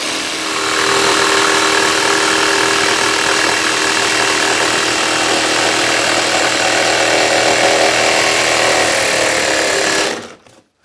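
A power saw cuts a corner of a kitchen cabinet in a woodworking shop, giving a loud, steady whining drone for about ten seconds before it stops abruptly.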